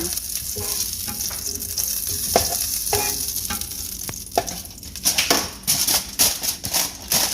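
Shrimp sizzling and frying in a pan as teriyaki shrimp cooks, with a steady hiss under sharp clicks and scrapes of stirring that grow louder and busier toward the end; no one speaks.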